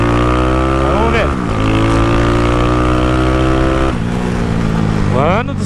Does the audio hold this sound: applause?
no